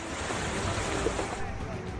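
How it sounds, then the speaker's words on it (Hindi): The Been river near Rishikesh rushes in sudden flood after heavy rain, a dense, continuous roar of churning water mixed with wind buffeting, close and loud, with speech faintly underneath. "ऋषिकेश में भारी बारिश के चलते बीन नदी में अचानक पानी आ गया।"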